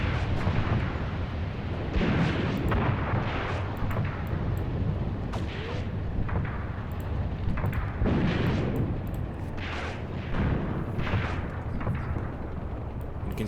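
Tank cannons boom again and again across a WWII Eastern Front battle in a video game, loud, heavy blasts layered over a constant rumbling din, with no voices.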